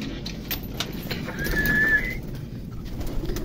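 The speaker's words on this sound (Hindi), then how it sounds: "तो अभी इन कबूतर को खाना खिलाया जा रहा है मक्खन वाली रोटी।" Pigeons fed butter roti coo softly nearby, with a low steady murmur and a faint brief wing flutter, no one speaking.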